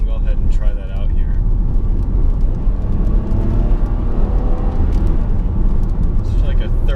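A 2007 Mazda CX-9 V6 accelerates from 35 to 50, heard from inside as a loud, continuous engine drone and road rumble that builds steadily, with people talking over it.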